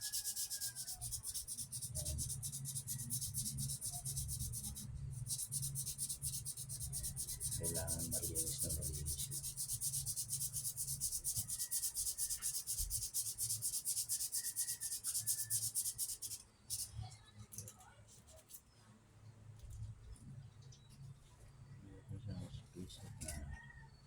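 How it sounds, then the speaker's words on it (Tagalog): A rusty electric fan shaft is sanded smooth by hand: steady, close rasping strokes run continuously for about sixteen seconds, then stop, leaving scattered handling clatter and quieter scraping. "Super kalawang na yung ating shafting. Kaya ang gagawin natin dito ay pakinisin natin siya."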